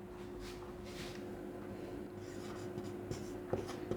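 Chalk or marker scratches across a classroom board as a formula is written, a series of short, close scraping strokes with pauses between them in a quiet room.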